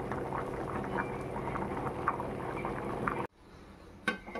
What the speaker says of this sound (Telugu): చూడండి రైస్ ఉడికిపోతుంది.